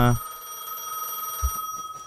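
In the Gas Station Simulator video game, a telephone rings with a steady electronic bell tone that sustains throughout. Short low thumps come at the start and midway.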